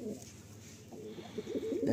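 Madrasi pigeons in a loft give soft, rolling coos. The calls start low and murmuring, then grow louder and busier toward the end, over a steady background hum, with no voices.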